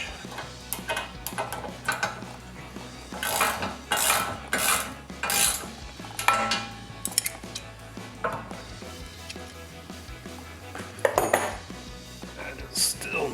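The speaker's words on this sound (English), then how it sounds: "Let's try that ratcheting wrench." A ratcheting wrench tightens bolts on a DV8 Offroad Spec Series front bumper on a 2023-2026 Chevrolet Colorado, working in a tight spot. Irregular metallic clicks and clinks come in bursts, close by, with no talk.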